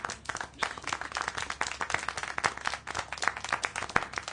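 Clapping applause from a small audience in the Syberia: The World Before video game, a dense patter of hand claps running steadily throughout, moderately loud with no clear talk over it.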